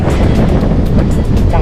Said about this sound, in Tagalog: lakas talaga ng hangin ngayon